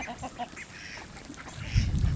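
Ducks quack outdoors as a thunderstorm approaches, scattered low calls that grow louder and closer toward the end, heard against breezy open-air background.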